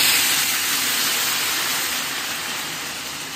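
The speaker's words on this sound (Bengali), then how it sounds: "তবে ওখানে তেল গরম হচ্ছে" Potatoes go into hot oil and sizzle, a loud, dense, steady hiss that fades slightly toward the end, heard alone with no talk.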